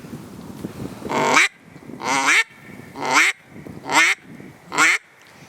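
A duck call blown in five evenly spaced, loud quacks, each a short nasal burst with a pause between.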